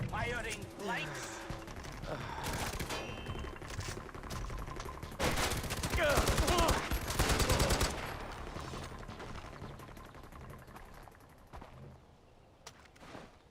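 Far Cry 4 gunfire arrives in rapid automatic bursts and scattered single shots, with mechanical clicks and game effects in between; someone talks over parts of the action.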